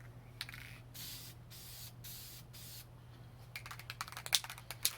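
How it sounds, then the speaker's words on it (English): An aerosol can sprays a first coat of paint on a Go Devil minibike seat, several short hissing bursts, close and fairly quiet, followed by rattling clicks from the can. "we're going to give her a first go here"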